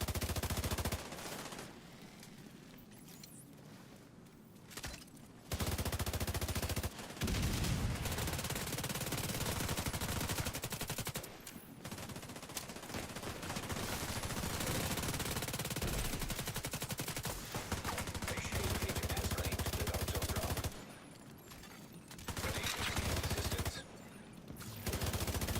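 Long stretches of dense automatic gunfire in a Dark Zone firefight in The Division, loud and sustained with a few brief lulls between bursts.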